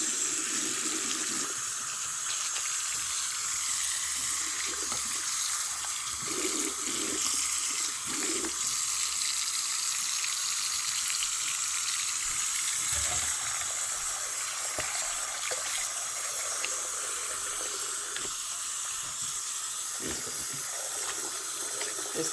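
Hot water runs steadily from a tap into a sink, a constant bright hiss and splash lasting throughout with small clatters of handling.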